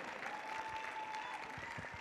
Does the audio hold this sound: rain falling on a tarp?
no